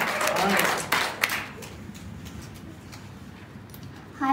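Applause from an evening audience at a business presentation, a loud burst of clapping in the first second and a half that fades away, with a short burst of sound returning at the very end.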